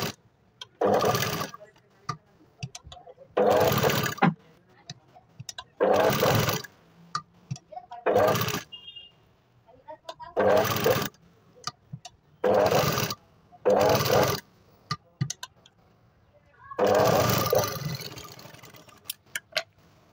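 Sewing machine stitching blouse fabric in repeated bursts of a few seconds each, separated by short pauses, close and fairly loud, with no talk over it.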